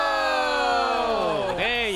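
A large crowd at the Evo Japan Street Fighter 6 tournament cheers and chants loudly and steadily, a dense wall of voices filling the hall with a rising shout near the end.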